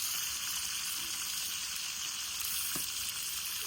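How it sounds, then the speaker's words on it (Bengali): Chicken pieces fry in hot oil in a pan, giving a steady, dense, close sizzle that holds unbroken throughout, with no speech. "তো এই যে আমি চিকেন ফ্রাই করছি"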